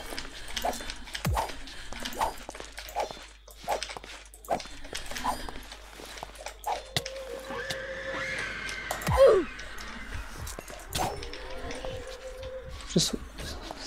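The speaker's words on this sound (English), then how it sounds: "Did you hit the dog while he was..." A dog whimpers and whines in the Minecraft modpack RLCraft, with several short whines among clicks and game noises, while people talk over it.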